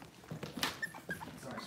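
Cavalier puppies give soft whimpers and short yips, several faint high cries scattered close by in a quiet room.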